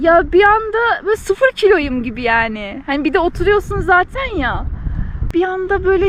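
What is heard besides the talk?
No everyday noise stands out behind the speech.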